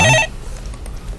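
A telephone rings briefly and loudly with an incoming call on a live stock-market call-in broadcast, a single electronic bell burst that cuts off, leaving quiet room tone.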